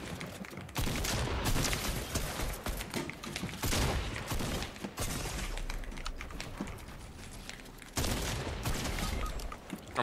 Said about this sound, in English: I shot him so many times.